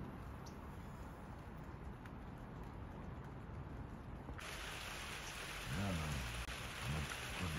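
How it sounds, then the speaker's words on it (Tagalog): Steady rain pours down in a California backyard during the rainy season with a constant hiss, growing heavier partway through, while a low voice murmurs faintly near the end. "Ulan. Ulan yan"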